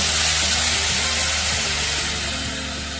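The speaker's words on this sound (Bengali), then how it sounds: "পেঁয়াজের কাঁচা গন্ধটা যতক্ষণ না চলে যায় ততক্ষণ আমি এটাকে ভাজবো মশলাটাকে" A paste of onion, ginger, garlic and green chili frying in oil in a pan for doi katla, giving a steady, close hiss of sizzling that eases slightly toward the end.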